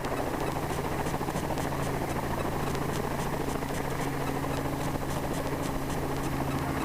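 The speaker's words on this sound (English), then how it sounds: "We're landed, and the helicopter's going to go in the hangar and going to get fixed." A landed helicopter's engine keeps running at a steady idle, a continuous low hum and buzz with faint rhythmic rotor ticks, heard alone at moderate distance.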